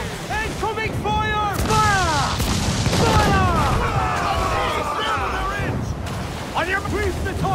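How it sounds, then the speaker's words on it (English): Mortar and cannon fire in Assassin's Creed Black Flag: booming shots and blasts during a naval fort battle, with shouted voices running over the steady roar of combat. "Brace yourself! Mortar!"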